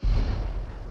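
Bomb blast in the BGMI battle royale video game: a single loud, deep boom that hits at once and rumbles away over under a second, with no talk over it.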